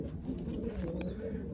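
Young racing pigeons in a loft coo steadily, a low continuous rolling murmur of several birds heard close up.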